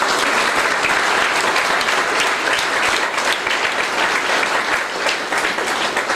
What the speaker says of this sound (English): Please give a clap here.